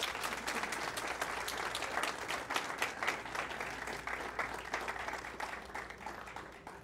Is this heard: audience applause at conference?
yes